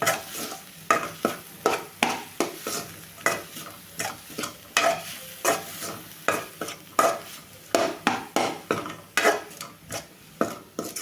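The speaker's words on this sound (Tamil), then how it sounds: "ஒரு கிளறு கிளறி விட்டுக்கலாம்" Radish chutney with tamarind and salt being stirred in a pan, with a steady run of close, rhythmic scrapes and clacks of the spoon about twice a second over a soft sizzle.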